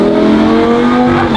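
A Lamborghini fitted with an aftermarket exhaust accelerates hard, its loud, sustained engine note climbing steadily as it revs, close and alone with no voices.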